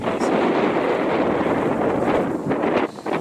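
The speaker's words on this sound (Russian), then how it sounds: "Ветер поднялся." Strong wind buffets the microphone in a steady, loud roar, gusting and rumbling throughout with a brief dip near the end.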